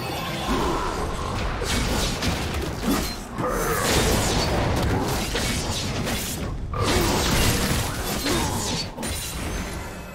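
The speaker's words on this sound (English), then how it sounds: "Blue team's turret has been destroyed." A League of Legends turret crumbling as it is destroyed: a continuous loud clatter of smashing, crashing and mechanical grinding, with repeated heavy impacts throughout and no voices.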